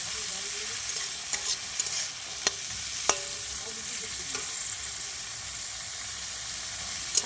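Cashews and raisins frying in a mix of ghee and white oil, a steady close sizzle with a few soft stirring clicks and taps, no talking.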